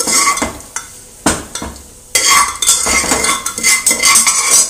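Chana dal and urad dal are stirred in hot ghee in a pan, with loud metal spoon scrapes and clinks against the pan over a sizzle. The sizzle grows stronger midway. No voices are heard.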